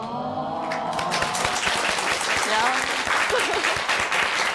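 Dense audience applause filling the room, steady and loud throughout, with a voice speaking over the clapping.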